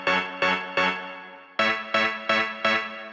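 An organ-like Sonic Synth 2 synthesizer plays seven short chord stabs in an even rhythm, each fading quickly, with a brief gap after the third.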